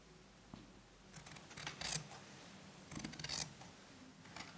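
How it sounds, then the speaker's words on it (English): Scissors snip through fabric up close in several short bursts of crisp cutting and rustling, separated by quiet pauses. "I cut my fabric."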